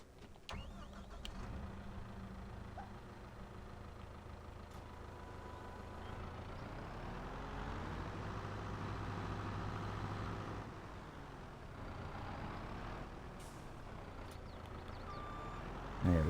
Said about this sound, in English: So now we're going to go ahead and pick up our wheel loader.